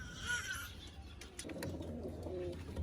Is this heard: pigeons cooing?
yes